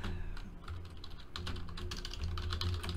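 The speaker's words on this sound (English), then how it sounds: "I'll type in these hits right now" Quiet, rapid clicking of keys on a computer keyboard, with keystrokes coming in quick irregular bursts and no voices.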